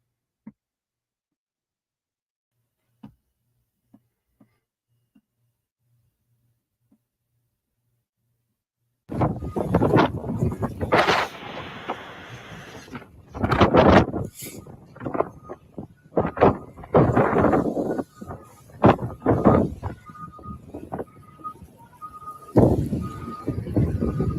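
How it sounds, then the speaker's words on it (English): After several seconds of near silence with a few faint clicks, loud gusty wind buffets the microphone in roaring bursts that rise and fall. "You guys see how windy it is?"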